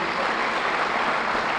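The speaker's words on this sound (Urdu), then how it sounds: "تالیاں بجا کر ان شہداء کے لیے" Audience applause honouring fallen martyrs at a Pakistani gathering, a dense steady wash of clapping lasting the whole moment with no voices over it.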